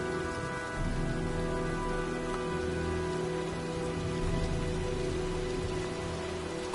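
Heavy rain from the video game Heavy Rain pours down steadily as a dense, constant hiss of drops striking surfaces, with a low hum running underneath and no break throughout.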